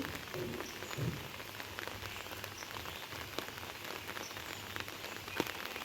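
Steady rain falls on a garden bed of periwinkle seedlings, a dense, even patter of drops lasting throughout with a few sharper nearby splashes and no voices.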